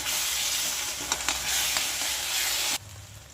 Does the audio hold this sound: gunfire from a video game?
no